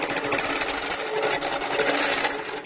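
A sewing machine being troubleshot runs continuously while test stitching fails to form properly, a close, steady whirring buzz with a fast mechanical chatter throughout and no talk.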